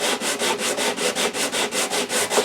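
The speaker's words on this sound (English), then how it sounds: "it just naturally flexes as I'm sanding" A guitar fingerboard is sanded with sandpaper on a narrow leather-backed block during a Larrivee neck reset, giving close, even back-and-forth rasping strokes at a steady rhythm, about ten passes.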